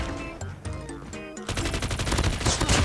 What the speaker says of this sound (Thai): เพราะว่ามีเสียงปืน